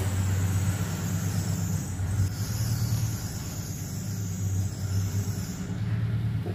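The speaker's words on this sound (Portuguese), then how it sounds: "Deixa o carro sair." A car pulls away from near a river cargo port in Guajará-Mirim, Rondônia, giving a steady low engine rumble that swells and eases over several seconds with no talk.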